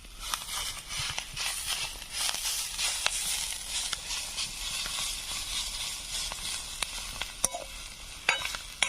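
Chickpea (harbhara) leaves fry in a pan with a continuous hissing sizzle, broken by sharp clicks and scrapes from stirring.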